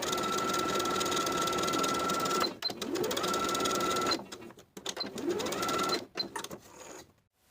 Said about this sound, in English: Now I can sew my basting stitches around the entire bottom raw edge with about a 1/4 inch seam allowance from seam to seam